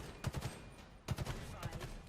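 Gunfire in Halo Infinite, two quick bursts of several sharp shots each, moderately loud, with faint talk around them.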